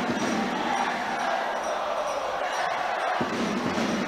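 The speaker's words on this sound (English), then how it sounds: "Storm fans trying to cheer their team on." Ice hockey crowd supporting Manchester Storm against Sheffield Steelers, a steady broad roar of fans filling the arena, with commentary voices talking over it.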